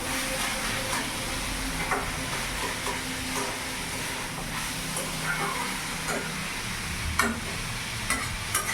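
Steady sizzling of banana stem and potato in a hot pan, with a spatula repeatedly scraping and clinking against the metal as they're stirred, close up.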